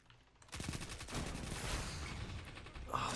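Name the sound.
gunfire from another player shooting, from a video game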